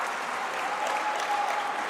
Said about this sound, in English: The Crocs off the bench cheering just then.